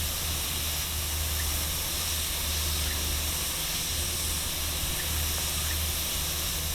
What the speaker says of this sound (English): they do make a little bit of a hissing noise